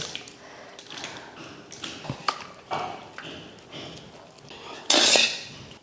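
A ladle stirs a large pot of tomato rice with tomato thokku, giving scattered metallic scrapes and clinks close by and a louder scraping burst near the end, with no talking.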